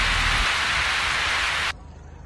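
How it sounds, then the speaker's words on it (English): Light drizzle falls in Kashmir as a steady, soft hiss that is even and close, then cuts off abruptly near the end, leaving faint quiet background. "It's just drizzling, and it's absolutely a wonderful place."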